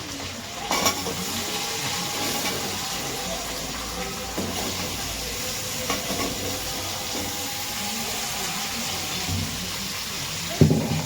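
Sweet potato pieces going into hot oil for winter khichuri, with a steady close sizzle and frying hiss, occasional stirring scrapes, and a louder clatter near the end.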